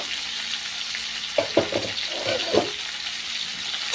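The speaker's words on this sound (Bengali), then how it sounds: "লবণ আর হলুদ আমি দিয়ে দিয়েছি দিয়ে একটু ঢাকা দিয়ে দিয়ে ফুলকপি আলুটাকে ভেজে নেব" Cauliflower and potatoes seasoned with salt and turmeric fry in a pan under a lid, giving a steady close hiss of oil, with a few louder stirring scrapes and clatters in the middle.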